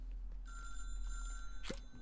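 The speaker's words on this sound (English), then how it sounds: "This telephone's ringing again." A telephone rings in the video game Little Big Workshop, a thin electronic tone sustained over a low background hum, followed by a short bright chime near the end.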